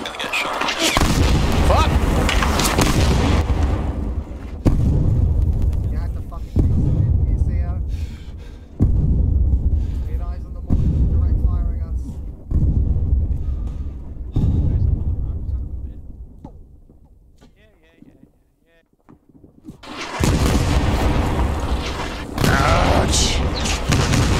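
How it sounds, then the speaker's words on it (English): Mortar shells burst one after another in the Vietnam War game SOG Prairie Fire, a run of heavy, close booms at a steady interval over constant battle noise, then a brief lull before the din swells again. "and then the mortars came in"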